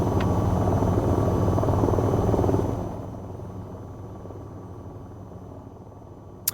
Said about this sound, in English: So, we're now in the helicopter.